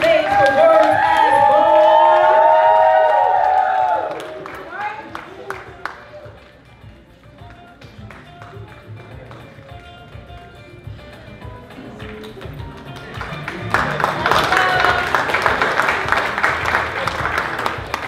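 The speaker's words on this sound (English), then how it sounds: "A whole lot of clapping all the way up to the stage" Audience applause and crowd noise at a live youth spoken-word poetry showcase as poets walk up to the stage, loud at first, dropping to a murmur, then swelling again into a second burst of clapping.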